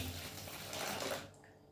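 Cold water pours steadily into a bottle for a yeast-growth experiment, a soft close splashing stream that stops abruptly after about a second and a quarter, with no talking.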